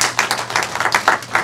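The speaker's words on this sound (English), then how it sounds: "We ought to clap our hands and give God glory" A church congregation claps hands at a memorial service, a run of roughly even, close claps repeating steadily over a low hum, with no talk.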